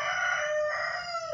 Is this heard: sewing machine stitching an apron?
no